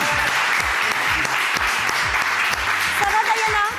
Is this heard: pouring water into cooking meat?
no